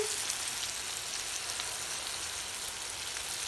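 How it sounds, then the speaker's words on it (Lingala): Pembe fish frying in hot oil for dakala, a soft even sizzle and crackle, steady and faint, with no talk over it. "Oke totika ngo kaka ekalingama yango wana mafuta tochaki."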